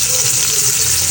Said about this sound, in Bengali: তেল গরম হয়ে গেছে, আমি হচ্ছে এখানে বিসমিল্লাহ একটা একটা করে মাছ দিয়ে দিচ্ছি